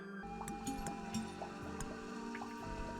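Water drips in a puzzle from the game The Mermaid Mask, a series of separate, fairly soft drops landing at irregular intervals over a faint tonal background hum.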